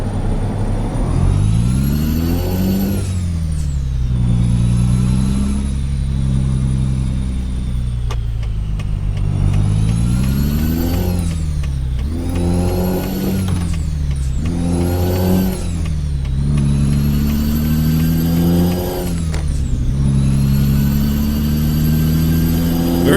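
Freightliner Coronado truck engine in American Truck Simulator, loud and close, revving up and down through repeated throttle swells and gear changes, steady drone with rising and falling pitch, no talk.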